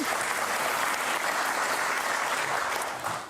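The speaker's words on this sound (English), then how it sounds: "please use your hands to clap for Contrast for bringing us that this year" Sustained applause from a conference audience at a DevOps tech event in Amsterdam, a dense, steady roar of many hands lasting the whole stretch before easing slightly at the end.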